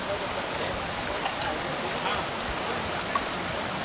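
A flowing river rushes as a continuous, fairly loud hiss of water, steady throughout with faint voices nearby.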